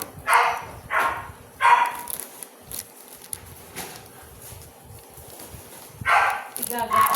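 A husky barks and yelps in several loud bursts close by, spaced over several seconds, with people talking and background household noise between the barks.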